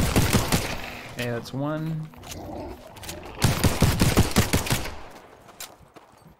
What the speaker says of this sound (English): now we have to kill more monsters with the pistol